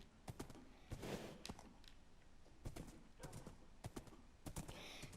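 Horse hooves clip-clopping in Minecraft, a quick run of crisp clicking steps in uneven bursts, close and fairly quiet.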